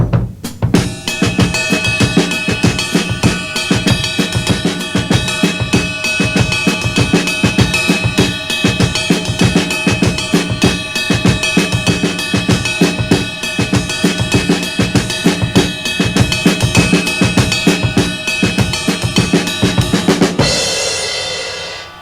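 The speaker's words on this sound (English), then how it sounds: "right hand on ride cymbal, left hand on snare, and I play a samba rhythm in my feet" Drum kit samba groove with the right hand riding the cymbal, the left hand on the snare and the feet holding a samba rhythm: dense, even, driving hits with ringing cymbal wash running continuously for about twenty seconds before stopping, close and loud.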